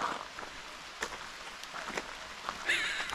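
A brief rain shower patters lightly on surfaces at a cave area in Kentucky's Mammoth Cave National Park, with soft scattered drops over a few seconds.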